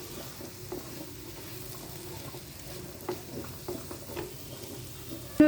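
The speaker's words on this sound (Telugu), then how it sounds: "ఏదో అలా ఏదో ఉండనట్టు కలపకుండా మంచిగా ఇలా కలుపుకుందాం." Capsicum besan fry gets stirred in a pan, a soft steady sizzle under quiet scraping of the spoon, with a few light knocks and a sharper clink at the end.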